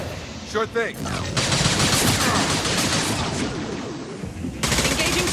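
Heavy gunfire in the video game Mass Effect 2, loud and dense bursts of rapid shots rattling continuously, with a brief voice line spoken over the barrage.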